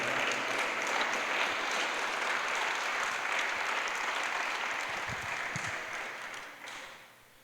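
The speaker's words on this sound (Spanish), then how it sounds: "Dale un fuerte aplauso al Señor." Church congregation applauding, a dense sustained clapping that holds loudly for several seconds and then fades away toward the end.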